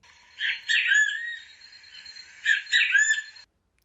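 Two loud, clear great kiskadee calls, each a burst of bright notes ending in a rising, whistled phrase, repeated after a short pause with no other sounds.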